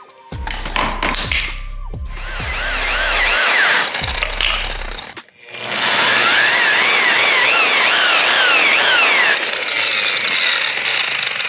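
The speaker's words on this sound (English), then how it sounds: "Show you running the blue pad on the whole thing." A power polisher spinning a blue pad with blue compound buffs an aluminum wheel at roughly 2000–2500 RPM, starting and stopping with short thunks, then running in a long, loud, steady whine with shifting pitch as it works the surface.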